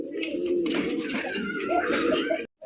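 A breeding pair of pigeons coo steadily in soft, repeated low calls, close by, with faint background noise and a brief silence near the end.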